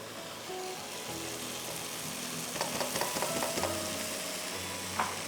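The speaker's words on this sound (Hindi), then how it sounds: "अब इसको अच्छी तरह से आपको भूनना है।" Spiced masala paste of blended tomato, cashew, peanut and poppy seed stirred and frying in a pan for chicken kosha masala, a steady soft sizzle with quiet spoon scrapes, faint and continuous.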